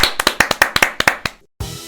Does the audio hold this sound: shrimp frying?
no